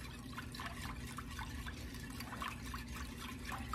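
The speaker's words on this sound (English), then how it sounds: "I am pouring my pineapple juice in" Pineapple juice poured into a dish of ingredients for a quick family dinner recipe, a steady liquid trickle and drip that runs continuously at close range with no talking.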